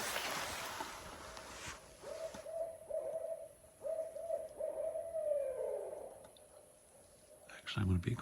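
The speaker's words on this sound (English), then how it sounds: "That is a barred owl." A barred owl hoots from a distance in the woods of the Uwharries, a run of clear, moderately faint hoots that rises and then trails off in a drawn-out descending call, followed by a brief rustle.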